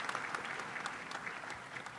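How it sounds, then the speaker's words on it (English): Golf-style applause from a commencement audience for the class of 2023, a soft, steady patter of many hands clapping at a polite, even pace, moderately distant, with no talk over it. "Clap, clap, clap. Golf claps, golf claps."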